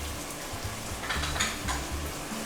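Hyderabadi chicken korma with whole mint leaves and yogurt fries in a pan, a continuous dense sizzle with soft stirring scrapes, close and steady.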